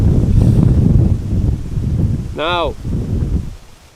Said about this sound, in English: the wind is definitely picking up on occasion